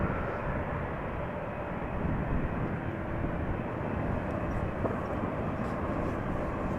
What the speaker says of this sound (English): And the ITA taxiing back to the gate.